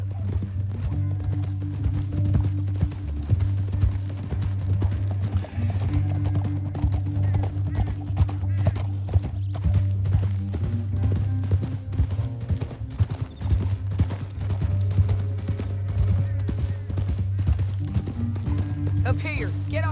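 Horses gallop in Red Dead Redemption 2, their hooves making a steady, continuous clip-clop over a low rumble, with people talking over the hoofbeats throughout.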